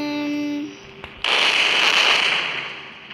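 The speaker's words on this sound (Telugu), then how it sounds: "అక్కడ బాంబు పేరింది" A bomb explodes in a bike 3D video game: a sustained tonal hum cuts out, then a sharp thud lands and a loud crackling, hissing blast bursts in and slowly fades over a couple of seconds.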